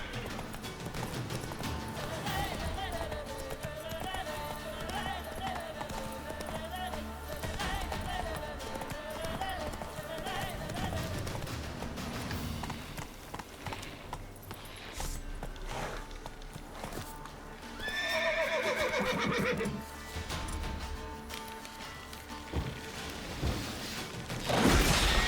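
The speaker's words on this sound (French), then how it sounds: "Oh le cheval." Rhythmic clip-clop of horse hooves over game music in The Witcher 3: Wild Hunt, with a brief whinny partway through; the sounds are moderately loud and steady.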